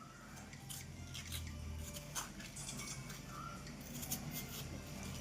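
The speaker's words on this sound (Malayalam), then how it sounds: "കുറച്ചുകൂടി നമുക്ക് അരിഞ്ഞിട്ട് കൊടുക്കാം." Watermelon is sliced into small pieces, producing irregular crisp clicks and chopping taps close by over a soft background.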